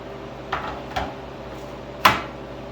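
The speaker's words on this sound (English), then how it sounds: "Let's pull this first tray out." A tray of frozen kiwi and orange slices is pulled from a cold home freeze dryer, giving two soft clunks and then a sharper metallic knock, all close and without talk.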